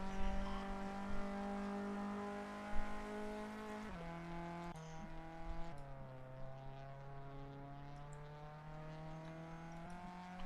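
A race car on the Nogaro circuit drones steadily through a corner, its engine note holding level and then stepping down in pitch as it shifts. It sounds somewhat distant and moderately loud, with no voices.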